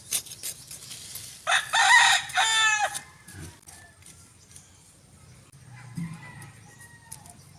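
A rooster crows loudly once in a garden, followed by faint clucking from chickens and someone speaking quietly in the background.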